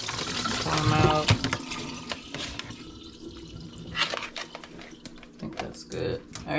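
Cooked shrimp poured out of a pot in a home kitchen, with water splashing and sloshing for a few seconds while people talk over it.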